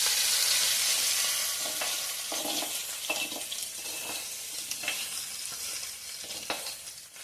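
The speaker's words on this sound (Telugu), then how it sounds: "నూనెలోని పోపు తాలింపు పెట్టుకుని ఇందులో కలుపుకుంటే సరిపోద్దండి" Spices tempering in hot oil for an ivy gourd chutney give a steady, close sizzle with occasional scraping stirs, fading slightly over time with no voices.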